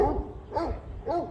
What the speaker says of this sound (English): Don't mind the dogs barking.